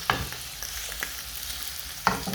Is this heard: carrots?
yes